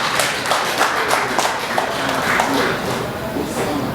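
A crowd at a Nigeria Independence Day celebration applauds for Haile Selassie with scattered, uneven clapping and voices mixed in.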